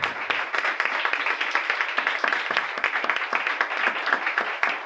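Congregation in a church clapping vigorously in a dense, steady burst of applause that fills the whole stretch, fairly close and loud, with no voices clearly standing out.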